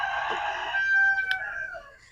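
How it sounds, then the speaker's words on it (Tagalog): A big farm chicken, a heavy bird of two to three kilos, crows and clucks close by in a rural backyard, a short harsh call over faint background noise with no talking. "Ito yung malaking manok."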